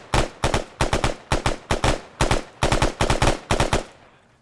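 Gunfire in the video game ArmA 3 comes as a rapid series of loud automatic bursts, about ten sharp shots in quick rhythm, close and clear, then trailing off.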